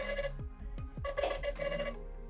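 A Nothing phone's default ringtone plays alone: a bright, tonal electronic melody with a few quick rising chirps, steady and fairly close.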